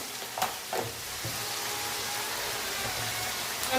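Spice masala fries in a pan as chilli sauce is added for chilli chicken, with two sharp knocks of a spoon early on. A dense, even sizzle follows and carries on to the end.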